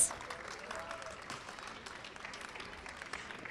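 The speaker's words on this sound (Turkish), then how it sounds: "Özkan için bir alkış alabilir miyiz?" An audience at a club athletics league final applauds hammer thrower Özkan Baltacı, a fairly quiet, steady patter of clapping heard from a distance.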